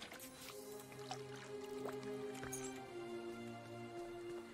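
Watering a freshly planted spot in a video game, a soft continuous liquid pour with gentle drips and squishy splashes over a steady game music drone.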